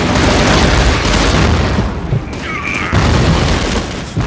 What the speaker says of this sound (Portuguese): Minha bombinha!